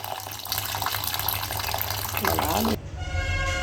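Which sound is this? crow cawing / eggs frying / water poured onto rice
water poured onto rice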